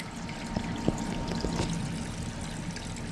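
Water trickles and pours gently in a small backyard creek shaded by plants, a soft continuous flow with a few faint drips and splashes.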